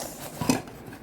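Kitchen pots from an online purchase lifted and handled, giving a few soft metallic clinks and knocks with one brief clatter midway, fairly close and otherwise quiet.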